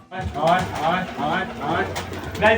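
Pigeons coo in soft, repeated rolling calls, close by, with a person talking over them throughout.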